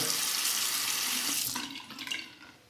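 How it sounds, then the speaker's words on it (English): Hot water gushes steadily from a tap for a moment, then cuts off, leaving faint trickles and drips. "I'll warm it up under the hot water"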